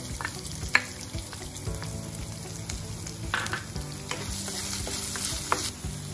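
Chopped onions and curry leaves fry in hot oil for a bitter gourd poriyal, a steady close sizzle with scraping stirs and a few sharp spatula clicks throughout.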